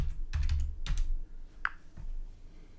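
Typing on a computer keyboard, a few soft, close key clicks in short irregular clusters.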